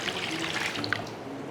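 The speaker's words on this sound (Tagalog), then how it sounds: "Lagyan nyo ng tubig." Water is poured from above into a large cooking pot holding a pork leg, a steady splashing trickle that runs continuously at close range with no speech.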